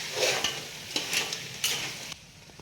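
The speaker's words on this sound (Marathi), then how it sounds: "कांदा लसूण खोबरं त्याची सगळी पेस्ट आपल्याला त्याच्यामध्ये घालायची ग्रेव्ही छान होण्यासाठी" Onion, garlic and coconut paste going into a crab curry in the pan, a steady broad sizzle with a few sharper stirring scrapes, close and fairly loud, dropping quieter near the end.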